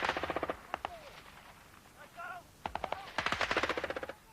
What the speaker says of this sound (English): These soldiers, in full battle dress, charging towards the sound of real gunfire